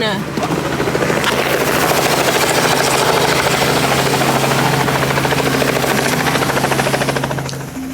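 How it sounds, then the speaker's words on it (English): A helicopter comes in to land close by, a loud continuous rotor thump and turbine whine that swells and holds for several seconds before easing, with people talking over it. "Is that a chopper?"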